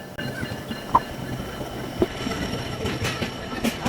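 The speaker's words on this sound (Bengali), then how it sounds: "ট্রেনের জন্য অপেক্ষা করতে করতে ট্রেনও চলে আসলো।" A train arrives and runs past a station in Bangladesh, with steady rumbling wheels, rhythmic clacks and brief metallic squeals of the wheels, fairly close and without speech.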